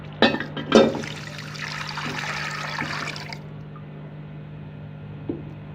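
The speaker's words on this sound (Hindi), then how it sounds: "अब हम इसमें 2 गिलास पानी डाल देंगे" Water splashes and pours into a pan with a couple of sharp initial splashes, then a steady rushing stream that stops abruptly, over a low hum.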